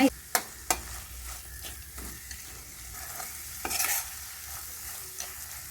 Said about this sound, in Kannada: ಇವಾಗ ಎಲ್ಲ ಫ್ರೈ ಮಾಡೋಣ